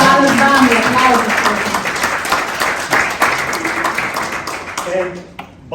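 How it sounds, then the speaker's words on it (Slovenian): A corporate kickoff event crowd applauds continuously, with voices talking over the clapping and the sound dipping briefly just before the end. "Aplavz."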